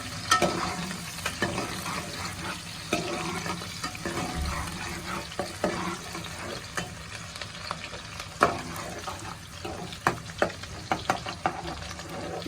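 Onions frying in a karahi give a soft continuous sizzle broken by frequent sharp clicks and scrapes of a ladle stirring against the metal, close up with no talking.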